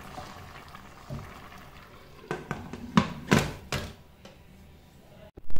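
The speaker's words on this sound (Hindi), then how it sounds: "तो अब इस स्टेज पे मैं दे दूंगी स्टीम।" A cooking pot steams on the stove while making chicken shami kebab, with a soft bubbling hiss underneath and several sharp clanks and knocks of lid or utensils, ending in a loud close thump.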